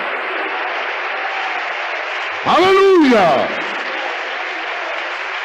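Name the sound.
congregation applause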